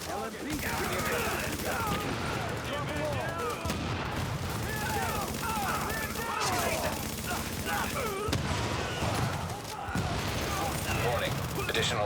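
Rapid turret gunfire in a video game crackles in dense, continuous bursts with booming impacts, loud and chaotic, pausing briefly a few times.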